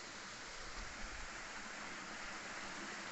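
Peaty fresh water rushes steadily along a stream at Loch Buie on the Isle of Mull, a continuous broadband wash of close, even flow with no breaks and no voices.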